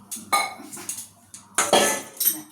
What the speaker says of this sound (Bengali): চলো ডালটা ঢেলে নিই।